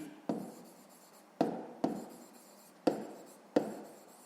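Pen strokes scratching on paper during a sixth-grade maths exercise, five separate short bursts of writing with brief pauses between them, close and fairly quiet, with no talking.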